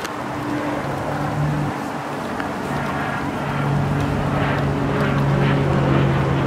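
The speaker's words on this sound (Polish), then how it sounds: "O, a tu kolejny samolot." Airplane passing overhead near Boston, a steady broad engine roar that holds loud and even throughout, rising slightly toward the end, with no talk.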